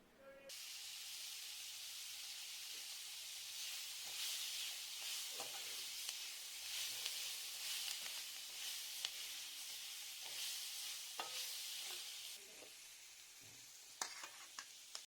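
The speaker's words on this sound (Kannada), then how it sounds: "ಈಗ ಬಾಣಲೆಗೆ 1/4 ಟೀ ಸ್ಪೂನ್ ಅರಿಶಿಣವನ್ನು ಸೇರಿಸಿಕೊಂಡು ಬಾಡಿಸ್ಕೊಳ್ಬೇಕು" Onions with turmeric sautéing in a pan, a loud hissing sizzle with scattered spoon taps and stirring scrapes, briefly swelling louder near the end.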